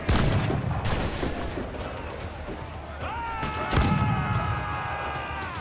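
In Assassin's Creed IV: Black Flag, ship guns fire in heavy, booming volleys through noisy naval combat, with a sharp blast near the middle and ringing tones trailing after.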